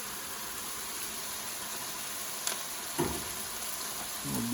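Browned sausage and pureed tomatoes for a vodka pasta sauce stirred in a pan: a soft, even sizzle with a few spoon scrapes and knocks near the end, no voices.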